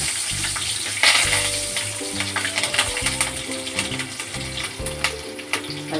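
Curry leaves dropped into hot oil with fenugreek seeds for kathrika kulambu, a loud bright sizzle and crackle that flares sharply then keeps spitting steadily, with some stirring clatter under it.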